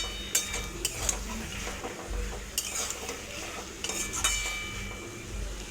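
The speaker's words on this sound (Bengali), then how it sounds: "ভেজে রাখা বড়িগুলোকে দিয়ে দেব, আবার একটু নাড়িয়ে চাড়িয়ে নেব।" Bori (fried lentil dumplings) being stirred into pumpkin greens in a pan, with steady scraping and clinking of the utensil against the pan over a soft sizzle, close and moderately quiet.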